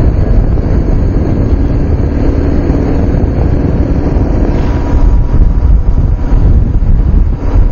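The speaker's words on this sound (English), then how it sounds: "All I can hear is the wind and the engine noise." Loud, continuous wind roar buffets the microphone while riding a motorcycle, with a low engine rumble underneath, steady throughout with no voices.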